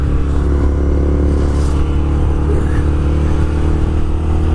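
A motorcycle engine rumbles in a steady, loud, low drone throughout, with no clear revs or gear changes, on a chilly day's ride.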